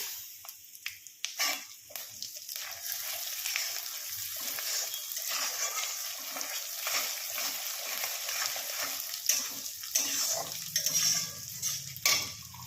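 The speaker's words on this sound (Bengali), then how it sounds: "ডালটা আমি ভালো করে ভেজে নেব" Lentils fry in a pan with dried red chilli, bay leaf and panch phoron, giving a continuous close sizzle with repeated clattering strokes of stirring throughout.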